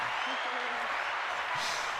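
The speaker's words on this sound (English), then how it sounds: "let's give you a round of applause." A live audience at a leadership talk applauding in a steady, dense wash of clapping that holds at an even level for a couple of seconds, with brief voices cutting through.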